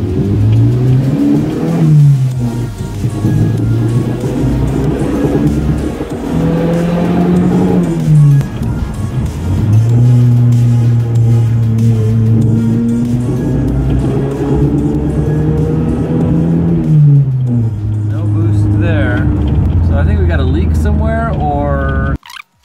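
A Volvo 240 with a swapped turbo engine is revved hard again and again, its pitch climbing and falling in long sweeps, loud and close, before the engine cuts off sharply at the end.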